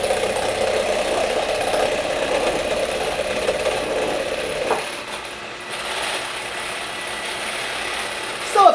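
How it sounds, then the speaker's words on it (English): An electric hand mixer beats egg whites toward soft peaks for buttermilk blueberry pancakes, a steady whirring motor hum running almost unbroken, dipping briefly midway before resuming near and moderately loud. "And that is to beat my egg whites"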